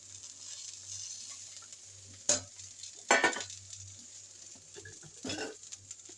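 Fish heads sizzle faintly in hot oil in a pan, a steady low crackle with a few louder spatters and stirring clatters scattered through it.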